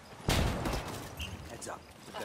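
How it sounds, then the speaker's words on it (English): Heavy gunfire in the video game Ghost War, a sharp loud blast followed by a rattle of further shots and battle noise, with voices speaking over it. "Taking heavy fire."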